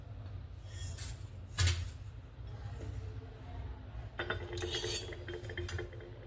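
Roasted semolina is scraped and scooped out of a pan with a metal spoon, giving soft scraping strokes and a few light clinks of utensil on metal, faint and close with kitchen hum beneath.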